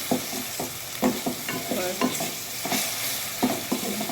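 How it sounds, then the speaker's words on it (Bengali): Two spoons of ginger garlic paste fry in hot oil in a pan for a chicken and potato curry, with a continuous sizzle broken by regular, rhythmic stirring scrapes. A single short spoken word comes near the start. "একটু ভুনা ভুনা করে নেব।"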